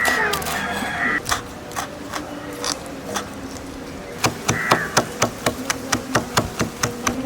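A knife chops ginger into small pieces on a board, a run of sharp, close taps that starts sparse and becomes a quick, steady rhythm. A faint hum sits underneath.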